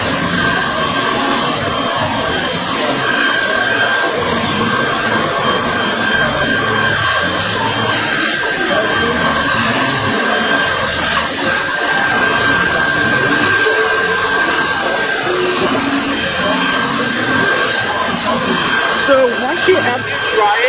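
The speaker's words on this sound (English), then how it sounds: "Hair dryer or blow dryer, whatever you call it." A hair dryer blowing loudly and steadily at close range for the whole stretch, a constant whooshing roar with a faint whine.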